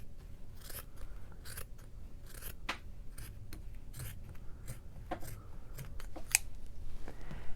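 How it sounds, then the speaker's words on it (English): Scissors snip through quilt fabric at an ironing board, a run of crisp, close cuts in an uneven rhythm with brief pauses between them and no talk. "I'm just going to cut right down the middle"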